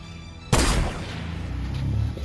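A single loud gun blast in a Gujarati comedy skit hits sharply, then fades into a rumbling tail, with no voices.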